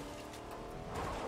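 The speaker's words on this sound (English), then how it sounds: "I heard a car" Car engine in a video game driving past, a steady motor drone that swells louder toward the end, fairly close and heard on its own.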